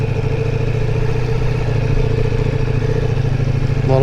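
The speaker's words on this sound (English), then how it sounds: "Just driving it around a lot, getting used to the weight and the clutch on the bike" A Ducati Multistrada V4 S motorcycle engine runs steadily at close range while riding, a continuous low throbbing drone with a faint mechanical clatter, with no voices.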